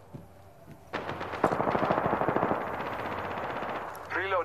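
Sustained rapid automatic gunfire in Apex Legends, a loud close burst lasting a few seconds with game sounds around it and a voice at the end.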